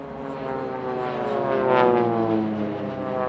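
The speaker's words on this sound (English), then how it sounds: "a 4-ship opposing 360-degree turn with aircraft starting from opposite sides of the circle" Propeller aircraft flying a four-ship opposing 360-degree turn at an airshow in Leszno, a loud sustained engine drone that swells and peaks as the planes sweep past, with a slight pitch shift.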